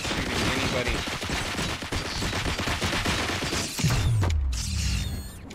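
Rapid gunfire rings out in RoboCop: Rogue City, dense volleys of sharp, loud shots mixed with mechanical clanks and creaks, then ending in a heavy, descending metallic impact.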